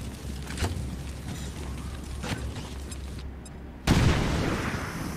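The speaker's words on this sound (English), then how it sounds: "So grenade out." A grenade goes off with a sudden, loud, close blast in the strategy game XCOM 2. It comes after a stretch of quieter ambience with a few faint thuds, and a rumbling tail follows the explosion.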